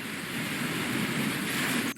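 Continuous crashing wash of beach waves from the game Keep Talking and Nobody Explodes, loud and steady, cutting off abruptly at the end, with no voices.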